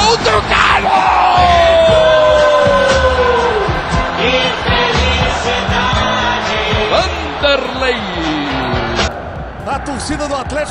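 A large crowd of Atlético football fans roars and chants loudly after a goal, with an excited commentator's voice speaking over the din.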